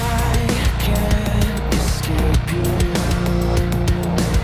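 Heavy nu-metal style metalcore band playing with dense distorted guitars and pounding drums, a loud, continuous full mix with steady rhythmic hits and no voices talking over it.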